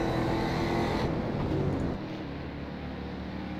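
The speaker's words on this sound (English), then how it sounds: "Nice look at Greg making the pass on Eric, and he is going to get out in front." A race car in a racing video game on the Mid-Ohio chicane course makes a pass: steady engine roar close up, easing slightly in level partway through, with no talk.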